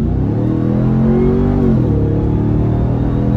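Revving of a 2021 Ram TRX pickup engine, recorded from inside the cab: a loud, continuous rumble whose pitch climbs and then falls back, with no talking.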